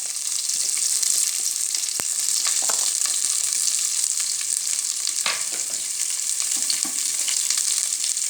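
Sliced big onions and small shallots with a pinch of rock salt sauté in a pan for Madurai mutton kuzhambu, giving a loud, steady, close sizzle with occasional scraping stirs and no talking.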